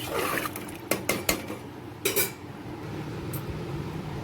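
Spoon scraping and clinking against a metal kadai as turmeric and spices are stirred, several sharp clanks close by over a low steady background hiss.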